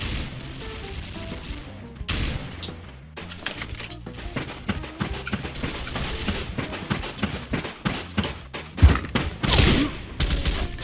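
M4A1 SOPMOD gunfire in the Special Force 2 online shooter: loud, close bursts of rapid automatic fire, then single shots and scattered impact sounds, with little pause between volleys.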